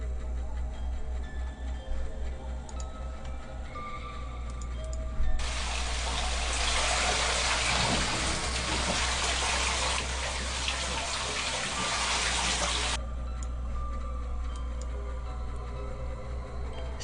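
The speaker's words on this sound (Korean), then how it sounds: "샤워기에서 내 몸을 통해 밑으로 물이 떨어지는 소리" A steady broadband rush of shower water falling onto a body starts partway through, runs for several seconds, then cuts off, over a low constant hum.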